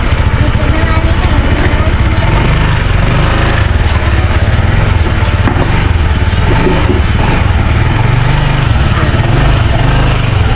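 A motorcycle engine idles loudly and steadily at close range while being parked, a constant rumbling drone throughout with faint voices underneath.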